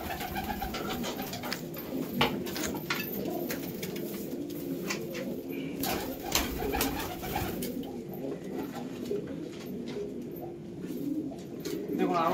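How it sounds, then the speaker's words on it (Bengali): Pigeons coo steadily under a busy loft soundscape, a pair of Kalanka breeding pigeons among others, with soft rustling and murmurs throughout, moderately loud and continuous. "দেখুন আরো এক জোড়া কালাঙ্কা"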